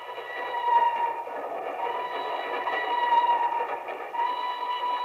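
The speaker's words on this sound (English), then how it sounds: "Two men stand on the swaying observation platform of a train which winds its way across a yawning chasm between two mountains." A radio-drama sound effect of a train crossing a trestle over a deep gorge between mountains. It makes a steady, continuous rolling rumble with a ringing metallic tone, fairly close, and no voices.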